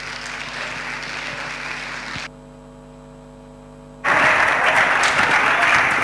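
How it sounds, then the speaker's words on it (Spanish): Applause from the audience at a Spanish talk on planned obsolescence breaks out loudly and fills the hall for about two seconds. A long stretch of steady mains hum comes before it, with a faint electrical drone running underneath. "Un fuerte aplauso para ellos."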